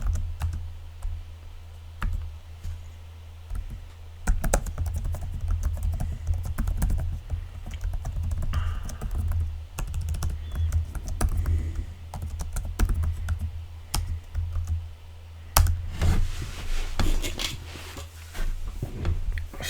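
Code is typed on a computer keyboard, with irregular quiet key taps and occasional louder clacks over a low steady hum, and no talking.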